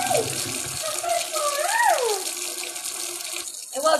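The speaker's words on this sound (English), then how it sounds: "Let's get some fresh water to the puppy and the kitty." Fresh water runs from a household tap to fill bowls for a puppy and a kitten, a steady gushing splash with a rising pitch as the vessel fills and a brief pause near the end.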